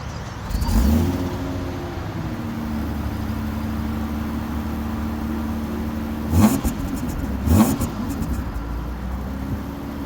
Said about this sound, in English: So this is a cold start and a little rev up.